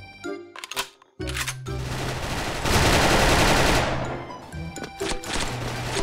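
FN FAL rifle fire in the Special Force shooter game comes in a few sharp shots, then one long sustained burst of loud rapid fire, followed by scattered closer cracks.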